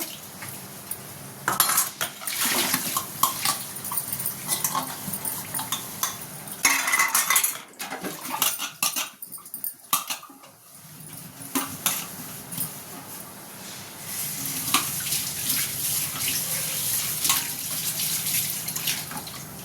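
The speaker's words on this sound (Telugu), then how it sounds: "ఇవి కొంచెం తోమేస్తే పని అయిపోతుంది" Dishes and pots from a midday meal being scrubbed at a sink, with steady clinking of cutlery and metal vessels, scraping and splashing water from a running tap, close and continuous throughout.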